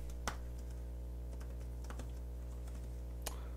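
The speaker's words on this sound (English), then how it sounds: "I will have to test this keyboard out and see." Typing on the keyboard case of a Samsung Galaxy Tab S3: a steady run of soft key taps with two louder clacks, close up over a constant low hum.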